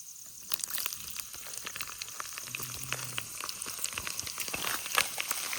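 Cumin seeds and garlic frying in hot oil as a tempering for kadhi, sizzling and crackling steadily close up, with sharp pops scattered throughout.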